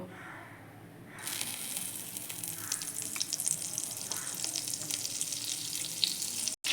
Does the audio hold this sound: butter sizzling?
yes